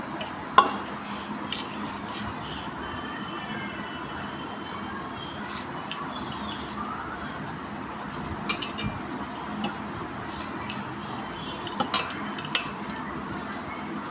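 Uncooked rice tipped into a five-litre pressure cooker for a mutton biryani with potatoes, a soft grainy rattle against the metal with light clinks of a utensil, fairly steady and close over a faint background hum.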